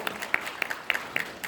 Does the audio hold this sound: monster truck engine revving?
no